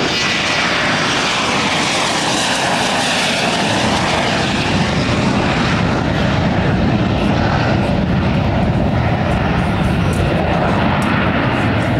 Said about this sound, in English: That was a beautiful takeoff.